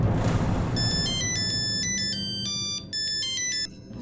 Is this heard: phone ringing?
yes